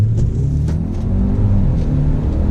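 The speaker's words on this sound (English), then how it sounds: "I'm gonna do a little acceleration. So I'm gonna get on the throttle." A 2020 Mercedes-Benz GLE 350 SUV with a 9-speed automatic accelerates under throttle, its engine a steady, loud, low rumble that builds smoothly and continuously, heard from inside the cabin with no talking.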